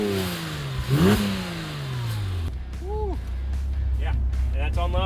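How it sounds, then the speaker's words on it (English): A 2008 Porsche Boxster RS60 Spyder in loud exhaust mode revs up in a rising, then falling surge, followed by a low idle with a couple of short blips and a person talking over it. "Let's hear that exhaust from the back."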